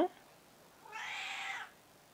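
A domestic cat gives a single clear, drawn-out meow close by in a small art studio, after a brief earlier sound.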